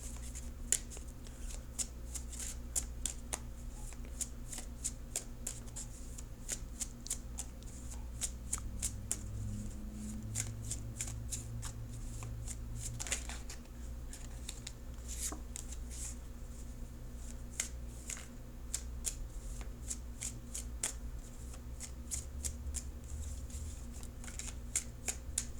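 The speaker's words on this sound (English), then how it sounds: "now I'm going to shuffle for" A deck of tarot cards is shuffled close up, with rapid riffling clicks repeating steadily for a long stretch and no one talking.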